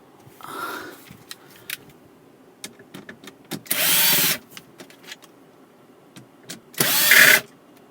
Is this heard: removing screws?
yes